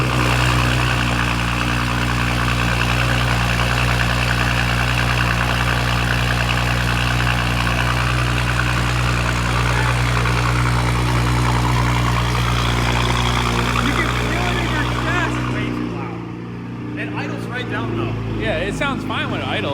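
An Audi S4/S5 engine idles with a loud straight-pipe exhaust, a steady, dense rumble that holds close and unbroken for most of the stretch before thinning out near the end, with voices heard in the shop over it.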